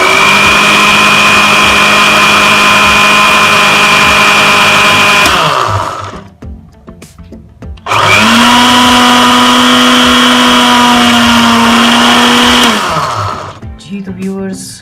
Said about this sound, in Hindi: और इसे ग्राइंड कर लेते हैं।